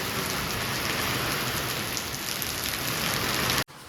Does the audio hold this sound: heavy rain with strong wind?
yes